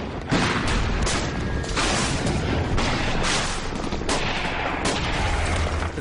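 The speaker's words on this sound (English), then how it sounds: "The first phase of this war was the bombing of Afghanistan." Bombing explosions and gunfire in Afghanistan war footage sound as dense, loud bursts of shots and heavy booms that repeat in rough succession throughout, with no one speaking.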